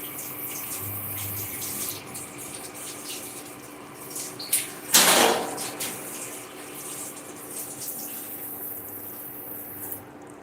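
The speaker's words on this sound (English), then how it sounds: "let me wash my hand well" Hands being washed under a running kitchen tap: a steady stream of water runs throughout, with a brief louder splash in the middle as the hands move under the flow.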